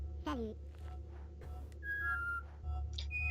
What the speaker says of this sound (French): Tu peux siffler, je crois, en étant accroupi